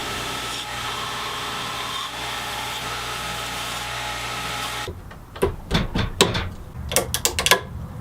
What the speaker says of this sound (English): So it's back to the belt grinder. Just trying to remove the bulk of this material.